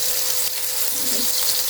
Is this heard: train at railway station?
no